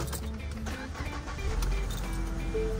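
A Ford Fusion's engine cranks and catches, then settles into a steady low idle that grows slightly louder after about a second and a half, heard up close with no talking.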